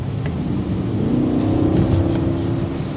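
A 2024 BMW X5 M60i gives a steady, deep exhaust rumble that swells into a rising, droning engine tone as it accelerates in sport mode, heard from inside the cabin without speech.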